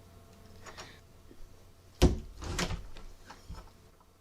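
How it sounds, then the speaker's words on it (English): A doorknob twists and a door opens in a quiet room, a sharp click and rattle followed by a softer creak and shuffle, close and alone. "you hear the knob twist and the door open"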